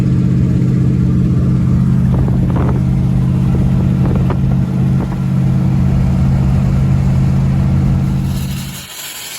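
A 1955 Buick Roadmaster's engine drones loud and steady while driving, a low constant hum with wind and road noise that eases off near the end; no talk is heard.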